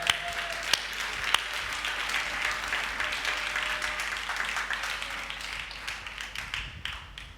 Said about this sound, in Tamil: நல்லா கைத்தட்டுங்க பார்க்கலாம்